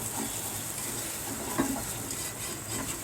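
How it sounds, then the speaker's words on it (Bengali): Beetroot semolina halwa being stirred in a frying pan, a steady low sizzle with soft scraping strokes of the spoon running continuously at close range. "হালুয়ার মতন একটু নাড়তে হবে"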